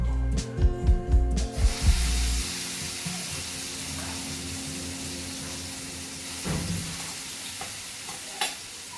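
Paste dropped into hot oil in a pan while making paneer butter masala, giving a loud burst of sizzling and stirring thumps at first, then settling into a steady softer frying hiss with occasional clinks.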